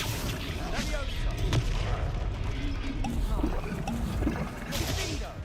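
Confringo blast spells in Hogwarts Legacy: repeated punchy bursts and whooshing magic impacts fired in quick succession amid game combat noise, with a voice calling out spell names over the effects.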